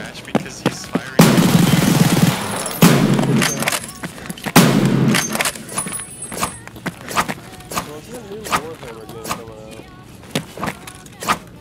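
Gunfire in a game, loud noisy bursts and scattered sharp cracks mixed with bangs, with people talking excitedly over and between the shots.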